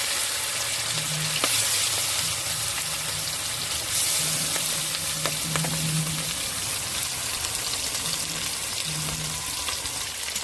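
Shele river fish frying in hot oil in a village kitchen, a steady close crackling sizzle throughout with soft stirring clinks and a faint low musical hum from festival music nearby.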